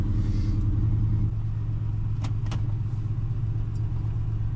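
A Ford Mustang Mach 1 engine idles as it warms up, a steady low rumble that is louder and more pulsing for the first second before settling into an even idle, with a few brief clicks above it.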